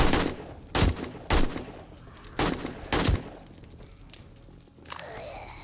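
Four heavy gunshots in the video game 7 Days to Die boom at irregular intervals over a busy background rumble, followed by a softer sustained whoosh at the end.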